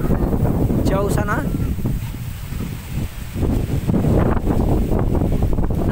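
Strong wind gusts roar steadily across an outdoor microphone ahead of a heavy rainstorm, a constant loud buffeting rush with a person speaking briefly over it.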